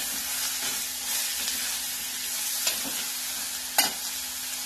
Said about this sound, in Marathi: चांगलं हलवून घ्या। एक 5 मिनिटं आपल्याला याच्यामध्ये भाजायचं आहे.